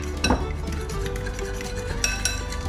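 Batter with beer is whisked in a bowl, giving quick scraping strokes and light clinks of the whisk against the sides, close up and with no talking.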